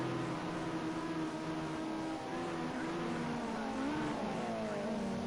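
Ginetta Junior race car engine droning steadily on a street circuit at Long Beach, a continuous loud engine note with shifting pitch as it pushes through a corner, no talk.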